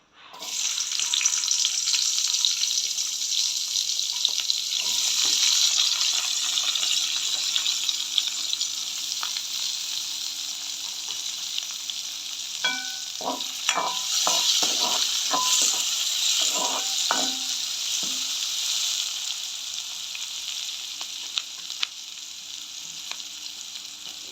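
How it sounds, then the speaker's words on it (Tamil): Onion and garlic fry steadily in hot oil, a loud continuous sizzle and hiss that runs alone throughout, with a brief cluster of light clatter partway through. "எண்ணெய் வந்து கொதித்து கொண்டு வருது நாங்கள் வந்து வெங்காயம் பூண்டை மேல் போடுவோம்"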